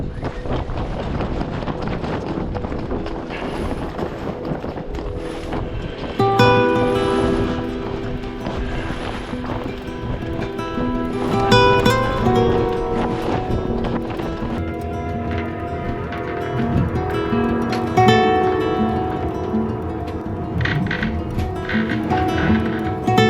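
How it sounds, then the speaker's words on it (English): Strong Pacific winter gale wind on a small sailboat at sea, a loud continuous roar with gusty surges and tonal whining tones running through, with no voices. "It's 24 hours now that the wind is strong."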